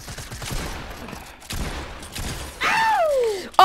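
Fortnite gameplay gunfire: bursts of rapid shots ring out in clusters, followed by a sweeping whistling effect and a sharp blast at the end, all fairly close and loud.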